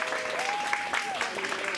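Applause breaks out in a parliament building as a sheep is led back out to a car, a dense patter of clapping heard under a voice talking over it.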